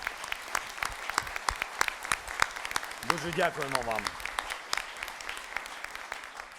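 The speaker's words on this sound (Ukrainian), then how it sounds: "І це точно заслуговує оплесків нашим хірургам" Audience applause at an international military medicine congress honoring military surgeons, with sharp claps spread through a hall under a brief spoken thank-you from a man.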